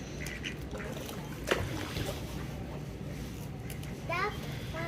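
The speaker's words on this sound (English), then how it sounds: "Can I feed the brown duck?" Ducks at a pond being fed popcorn, with a few quacks rising over constant outdoor background noise while children talk nearby.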